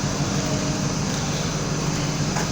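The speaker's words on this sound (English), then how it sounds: "So this is the compressor, a 9 kVA" A 9 kVA electric air compressor runs with a steady, unbroken mechanical drone and broadband hiss, close by and constant at an even level throughout, with no voices.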